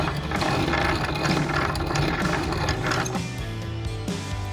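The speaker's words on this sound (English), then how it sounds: "Grind the ring by spinning the wheel inward towards the ring." A hand-cranked ring grinding tool filing the gap of a piston ring for a supercharged Harbor Freight Predator 670cc V-twin engine build, a continuous close rasping, ratcheting grind with an even rhythm.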